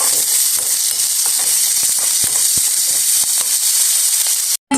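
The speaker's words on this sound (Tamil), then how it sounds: "நல்லா பொரிஞ்சு கொண்டு வருது" Close, continuous sizzling of onion and green chilli frying in oil, with intermittent crackles and pops, then a brief cut to silence near the end.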